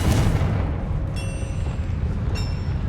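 Confringo blasting spell in Hogwarts Legacy: a loud, booming explosive burst with a heavy low rumble from the start, followed by bright magical shimmering chimes, strong and close throughout.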